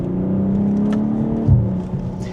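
A BMW M440 Gran Coupe pulls hard in Sport Plus mode, its engine holding a loud, steady drone with a brief deeper surge partway through, heard close with no talking.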